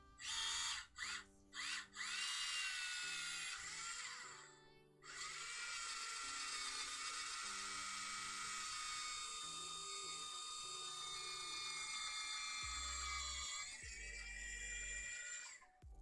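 A Tamiya electric handy drill whirs in short bursts and then runs in a long sustained whine as it bores into pewter, close and fairly quiet, with brief pauses and mechanical clicks.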